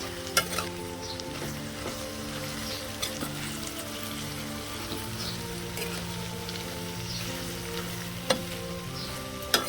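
Broad beans curry simmers in a pan with a steady crackling sizzle while a spoon stirs it, adding a few sharp knocks against the pan and a faint tonal hum underneath, no voices.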